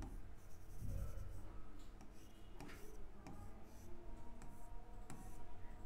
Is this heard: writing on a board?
yes